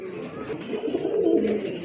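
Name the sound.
pigeon cooing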